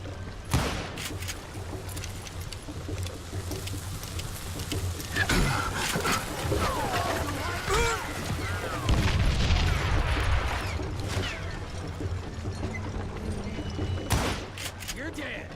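Gunfire in the Western shooter game Call of Juarez Gunslinger: sharp gunshot bursts and booms scattered through a busy, loud game mix, with voices talking over the action.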